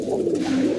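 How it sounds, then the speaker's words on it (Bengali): A pigeon gives a single close, clear coo on a sunny rooftop in Bangladesh near the end of the hot Bhadra month, heard alone over a quiet background. "কবুতরগুলো আপনার ছাড়ার পর দিয়ে কবুতরগুলো একদম পুরো চিপচিপ বসে রয়েছে।"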